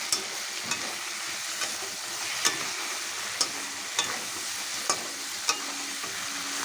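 Chicken curry with tomato ketchup being stirred in a pan, a continuous moderate sizzle broken by sharp, evenly spaced clinks of the spoon against the pan, with no talking.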